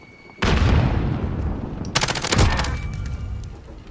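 Loud burst of Call of Duty gunfire erupts after a quiet lead-in, with rapid repeated shots and a second sharp volley midway, then rattling reports trailing off through the rest of the clip.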